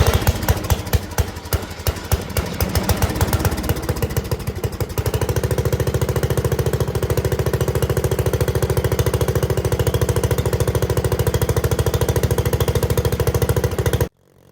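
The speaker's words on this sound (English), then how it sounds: "This is an easy starting Briggs & Stratton. 16 horsepower," A Speedex 1630 tractor's 16 hp Briggs & Stratton single-cylinder engine thumps close by. Its rapid, loud beat settles into a steady, even run before cutting off abruptly at the end.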